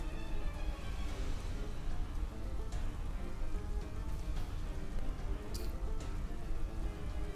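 Rain weather falling in Pokémon Sword and Shield, a steady hissing downpour that continues evenly at moderate loudness throughout, with a few faint higher chimes over it.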